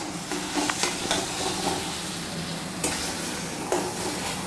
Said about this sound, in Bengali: সিদ্ধ করে নেওয়ার পর এটাকে তেলের মধ্যে একটু নাড়িয়ে নেব